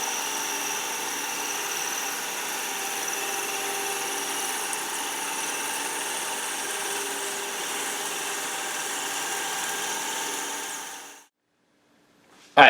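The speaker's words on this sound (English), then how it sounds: "I got my hole with the 3/8 inch drill bit drilled all the way through" A 3/8 inch drill bit cuts through an aluminum pen blank spinning on a wood lathe, a steady, fairly loud whirring grind lasting about eleven seconds before stopping abruptly into silence.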